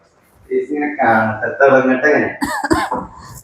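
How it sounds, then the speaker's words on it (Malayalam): A lingering cough that has not cleared after a fever: a few short, sharp coughs close to the microphone, following a stretch of talking. "അത് എന്റെ ചുമ ഇനി മാറിയിട്ടില്ല"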